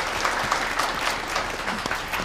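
A banquet crowd at an engagement celebration claps to welcome the chairmen of two companies, a dense, sustained round of applause filling the hall from start to finish.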